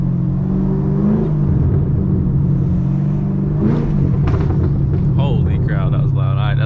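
A Chevrolet Camaro SS with a very loud exhaust rumbles heavily and revs, heard from inside during a night drive, its roar swelling near the middle and again toward the end.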